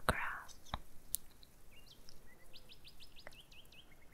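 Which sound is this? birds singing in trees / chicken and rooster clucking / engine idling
birds singing in trees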